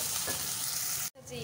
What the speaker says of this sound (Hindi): अब इसको मिक्स करेंगे और थोड़ा सा इसको भूनेंगे